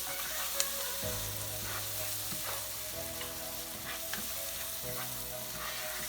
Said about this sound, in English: Next, I'm gonna add some tomato sauce.